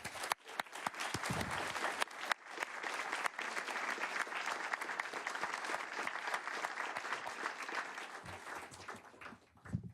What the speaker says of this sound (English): Let's all give each other a round of applause